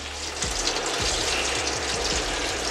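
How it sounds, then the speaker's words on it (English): Water pours steadily onto yellow potatoes on a flat top griddle for a seafood boil, a continuous gushing splash with a few low knocks, close and fairly loud. "And I'm going to pour in some water."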